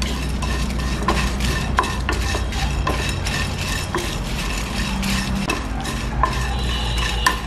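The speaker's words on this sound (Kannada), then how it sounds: "ಇಷ್ಟು ಚೆನ್ನಾಗಿ ಫ್ರೈ ಮಾಡ್ಕೊಳ್ಳೋಣ" Whole spices (black pepper, cumin, fenugreek and Byadagi chillies) stirred and dry-frying in a pan, with a steady soft rustle and sizzle, scraping spoon clinks and light metallic knocks running throughout at close range, no voices.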